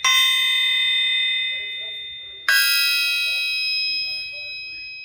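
A steel 454 crankshaft struck twice, each hit giving a bright, clear metallic ring that holds a long, slowly fading tone, close and loud, with the second strike landing halfway through as the first ring dies away.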